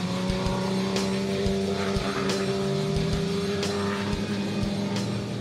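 Extreme Supercars, including an Audi R8, roll out onto the Zwartkops race track for a rolling start, a dense, steady engine drone with several cars droning together and loud, continuous throughout.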